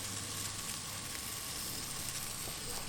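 Roasted jalapeños sizzle faintly in a Dutch oven, a soft continuous crackling hiss with small pops, quiet and steady.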